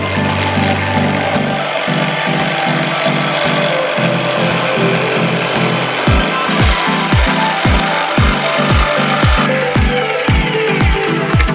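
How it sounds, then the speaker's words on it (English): Sawzall reciprocating saw cutting a wood panel for a Mazdaspeed3 trunk interior, loud and close, with rapid rhythmic buzzing strokes broken by short pauses that become regular stop-start bursts. "we grab the sawzall, and let's get the new panel."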